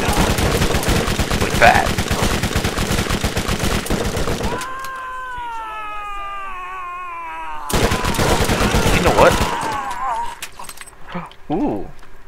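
Gunfire in the Borderlands video game: rapid, dense automatic shots firing loud and close for several seconds, a gap filled by tonal whirring effects, then another burst of shooting, with a voice talking briefly.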